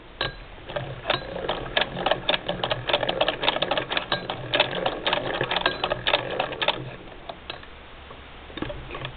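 A Singer sewing machine fitted with a sprung-needle embroidery and darning attachment runs fast, giving a steady rapid clattering tick of the needle with a low motor hum beneath, close and continuous.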